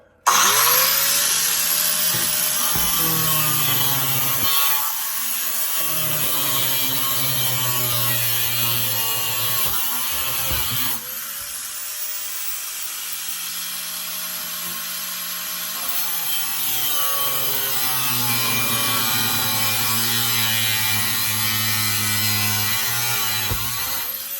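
A power tool with thin cutting discs slices through metal on a 1949–51 Mercury during air-suspension work, a loud, continuous high whine with pitch sagging and recovering under load, broken by short pauses; no voices.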